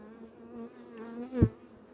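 Honey bees buzz around an open hive during an inspection, a close droning hum with one bee passing loudly right by for a moment.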